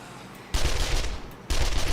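Submachine gun firing in 7 Days to Die, two loud sustained bursts of rapid automatic fire split by a short pause, close and alone.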